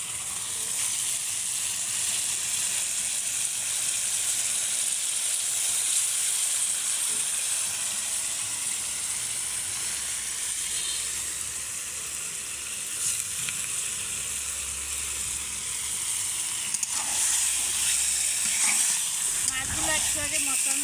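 Mirka fish sizzle loudly in a pan for a spinach curry, a steady close hiss of frying oil that continues throughout with occasional stirring scrapes and faint crackles.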